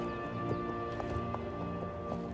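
An armored black horse gallops in Oblivion Remastered, a steady run of hoofbeats under a constant droning game backdrop, close and continuous.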